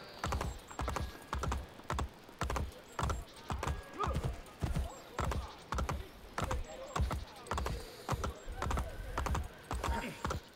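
Rhythmic clip-clop of horse hooves trotting at a steady pace in Assassin's Creed Brotherhood, crisp and fairly close, repeating throughout with no talking.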